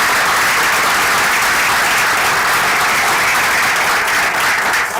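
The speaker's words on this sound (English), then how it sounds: "Please give my wonderful panel a great round of applause." Sustained, loud applause from a conference audience fills the room for a panel discussion on South Africa's best brands, with steady clapping throughout and no talking.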